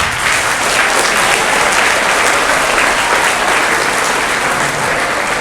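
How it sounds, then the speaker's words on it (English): Loud, continuous clapping from a school assembly audience congratulating the school football team, a dense steady wash of applause held at an even level throughout with no talk. "let's congratulate the team with a round of applause"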